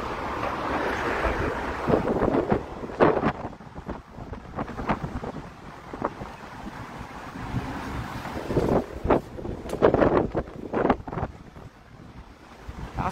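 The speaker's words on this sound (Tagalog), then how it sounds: "Lakas ng hangin." Strong wind outdoors buffeting the microphone in gusty bursts, irregular low rumbles and sharp blasts rising and falling close by, with no clear speech.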